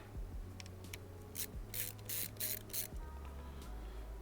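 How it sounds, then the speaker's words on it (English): Screws being backed out of an Anbernic RG35XX handheld game console with a small screwdriver, giving several short gritty scraping bursts over a steady low tonal background hum. "let's get these screws out of here"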